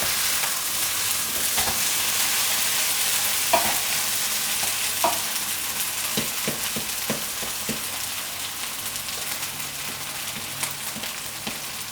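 An egg toast sandwich fries in a pan with a steady close sizzle and crackle, with a few scraping knocks as it is flipped and moved about. No one speaks.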